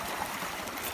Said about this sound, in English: you can see it's just gushing up out of that hole